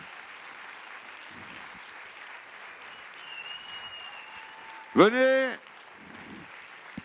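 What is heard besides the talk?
audience applause at a closing ceremony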